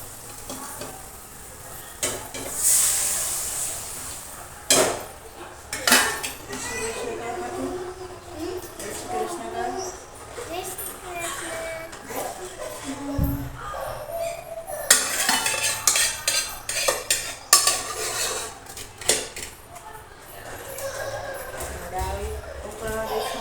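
Dal tipped into a pot of cooked spices at home, followed by repeated scraping and clinking of a metal utensil stirring against the pot, with a soft sizzle underneath and a voice talking at times.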